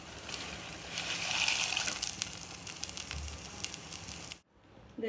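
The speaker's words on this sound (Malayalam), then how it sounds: "വെള്ളം തിളച്ചിട്ടുണ്ട്. നമുക്ക് പാസ്ത ഇട്ട് കൊടുക്കാം." Penne pasta drops into a pot of boiling water with a rushing, bubbling wash of sound that swells and then cuts off abruptly near the end.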